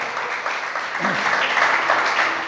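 A church congregation breaks into applause during a Spanish-language sermon, a dense, steady wash of clapping from a crowd that swells slightly toward the end and fills the short moment.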